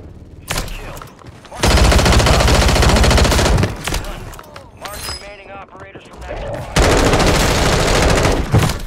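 Full-auto M16 fire in a Rebirth Island video game match rattles in two long loud sustained bursts, separated by quieter moments of other gunfire and clatter.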